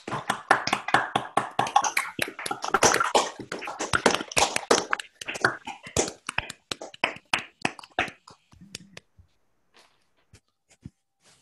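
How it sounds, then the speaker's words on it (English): Online call audience unmuting and clapping: a dense burst of overlapping hand claps that thins over several seconds into scattered individual claps, then silence. "Let's all try unmuting and clapping."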